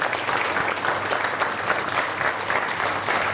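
Studio audience on a Russian talk show bursts into sustained, even applause welcoming a guest farmer, a thick continuous patter of many hands with no talk over it.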